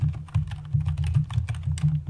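Keys clatter in a quick, irregular run as a password is typed on a computer keyboard during a SQL Server 2017 installation, close and steady over a low background hum, with no talking.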